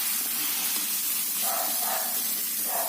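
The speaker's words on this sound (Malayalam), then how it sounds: "ഇനി ദോശക്കല്ലിൽ പരത്തി ചുടാം" Batter for ada is spread on a hot dosa griddle, giving a steady, soft sizzling hiss that swells slightly in places.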